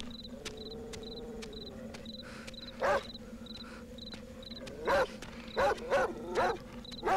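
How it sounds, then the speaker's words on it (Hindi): A dog barks once, then several times in quick succession, over a constant chirping of crickets and a low hum. "क्यों भौंक रहा है?"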